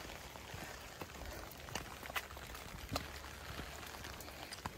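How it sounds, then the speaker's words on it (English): Rain falls steadily in woods during a Shikoku 88 pilgrimage walk, a faint continuous patter with scattered louder drops striking nearby surfaces, no talking. "Have a little bit of protection from pelting rain."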